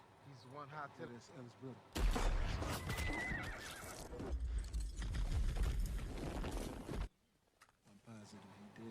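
Horses ridden by brothers on a plantation in a Western film scene whinny and neigh, with clip-clopping hooves. A quieter opening builds into a loud, busy stretch of horse sounds before dropping away sharply near the end.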